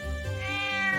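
A cat in the video game Trails of Cold Steel 2 gives one drawn-out, rising meow, clear and close, heard alone over a faint low background.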